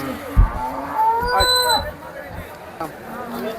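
Several cows moo in long, low calls over a busy background of crowd chatter and market noise at a cattle market in Sangola, India.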